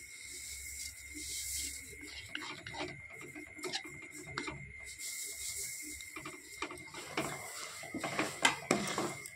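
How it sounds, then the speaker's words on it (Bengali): Sesame seeds being stirred into hot caramel in a pan for Bengali naru, with scattered scraping and light clinking of the utensil against the pan, fairly quiet and irregular. "এবারে ক্যারামেলের মধ্যে আমি তিলগুলো অল্প অল্প করে দিয়ে দিয়ে নাড়তে থাকবো"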